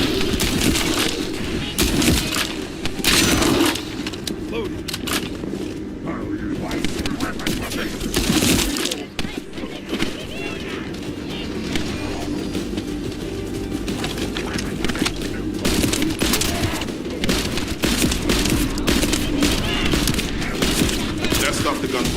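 Gunfire from the video game The First Descendant rattles in repeated bursts and sustained volleys throughout, loud and close. Voices speak intermittently among the shots.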